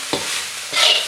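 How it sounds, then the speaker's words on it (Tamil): Fried rice with wilted greens mixed in a pan for Indonesian nasi goreng kampung, giving two brief scraping stirs over a steady, soft sizzle with no talk. "இப்போ இதெல்லாம் நல்லா மிக்ஸ் பண்ணிக்கோங்க"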